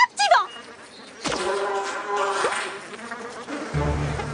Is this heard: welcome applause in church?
no